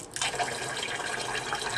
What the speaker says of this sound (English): So I'm rinsing the rice off to get rid of that.